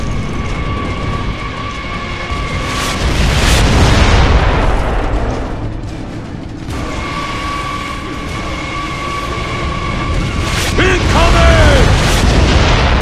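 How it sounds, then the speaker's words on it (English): Heavy mortar explosions in the video game Gears of War, loud rumbling booms that swell and roll over several seconds amid battle noise, a steady hum and tonal whistles, with voices shouting now and then. "The mortars have us pinned down!"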